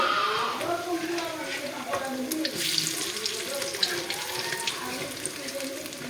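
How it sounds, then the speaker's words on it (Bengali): Food frying in butter and oil in a pan, a steady hiss and crackle of moderate loudness with a voice talking over it. "সুন্দর সুন্দর লাল করে ভেজে নিয়েছি এক সাইড"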